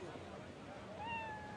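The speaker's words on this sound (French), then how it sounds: "Vous voyez ces chats? Ils sont partout." Cats meow in a short rising and falling cry over a dense background of murmuring voices and ambient noise, somewhat distant.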